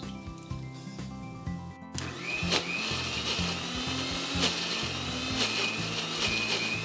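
A blender grinds a Goan prawn balchao spice paste loosened with vinegar, running at medium speed: after a short start-up the motor settles into a loud, steady, gritty whir that holds to the end.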